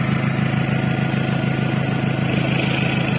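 Toyota Revo 2.4 pickup diesel engine fitted with a custom straight-through exhaust ending in a long three-inch tip, idling steadily with a deep, even low-pitched rumble close by, no voices.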